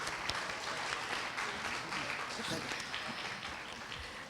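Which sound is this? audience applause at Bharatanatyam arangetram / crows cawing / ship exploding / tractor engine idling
audience applause at Bharatanatyam arangetram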